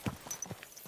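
Horse hooves in the video game Kingdom Come: Deliverance 2, a few quick clip-clops at close range, brief and clear.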